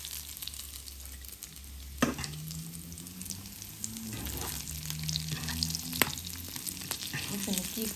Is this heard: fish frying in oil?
yes